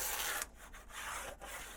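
Scissors or a blade trimming cardboard for a DIY cut-out, giving a steady close rubbing, scraping sound broken by a few short pauses.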